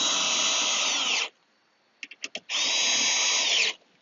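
A cordless power drill driving screws to fasten a vehicle soft top to mounting plates during a hard top to soft top swap, two long close whirring runs with a few short trigger blips between them.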